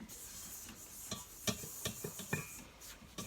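Dry citric acid mixture being mixed by hand after a few spritzes of witch hazel, giving soft gritty stirring and scraping with a handful of light clicks and taps, faint and close, with no talking.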